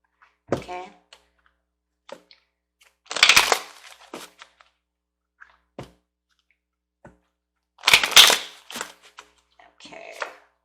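Angel cards being shuffled and handled, with scattered short taps and two louder bursts of riffling card noise amid quiet gaps.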